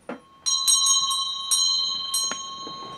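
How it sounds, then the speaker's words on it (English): A Buddha altar bell is struck several times in quick succession, each clear metallic ring layering into a sustained shimmering tone that slowly decays, close and fairly loud. "Is there a bell behind you? Could you ring it, Gareth?"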